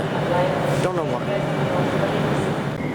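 ScotRail train pulling out of a Glasgow station, a steady low rumbling hum of the train throughout, with a voice briefly talking over it partway.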